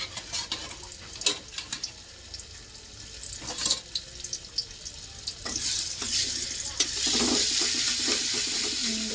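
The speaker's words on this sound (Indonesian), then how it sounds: "Kita tumis sampai harum bumbunya" Chinese betel leaves stir-fried with spice paste in a pan crackle unevenly, with bursts of scraping and stirring, then settle into a louder, continuous close hiss near the end.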